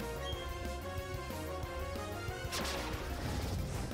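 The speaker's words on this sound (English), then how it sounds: "I need to get the bonk." Video game sound effects and music from Pokemon Shining Pearl, with a loud smashing impact for the move Wood Hammer striking near the middle over the steady game music.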